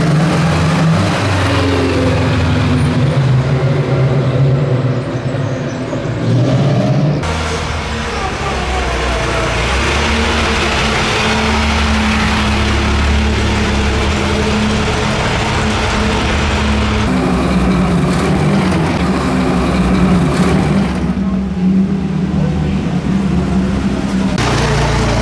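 A vintage Aston Martin drives past on the road during the Mille Miglia, its engine a steady, loud rumble, with broad road and crowd noise around it and someone talking over it.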